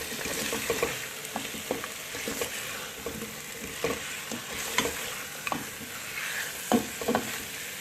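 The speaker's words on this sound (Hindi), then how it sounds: "थोड़ी देर इसमें चम्मच चलाऊँगी" A spoon stirs potatoes through sizzling, well-fried masala for aloo chicken shorba, sending repeated close scraping clacks over a steady frying hiss.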